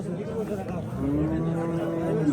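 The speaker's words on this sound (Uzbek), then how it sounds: "Mana sigirni ko'rsatamiz." A black cow with her calf at the Bogdod livestock market gives a low, drawn-out moo over steady background chatter from the market crowd.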